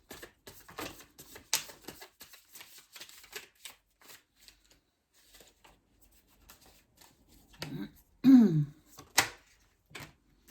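Tarot cards are shuffled by hand, with quick riffling bursts and soft card slaps separated by quiet gaps and a louder flurry near the end, close and intimate.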